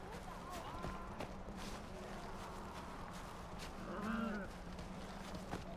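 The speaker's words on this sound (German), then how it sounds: "Hier sind wieder Ziegen." Goats bleating in the video game Far Cry Primal, a few short bleats around the middle amid footsteps and game ambience, with someone talking over it.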